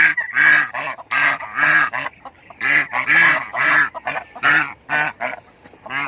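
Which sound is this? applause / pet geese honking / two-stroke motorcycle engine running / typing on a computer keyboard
pet geese honking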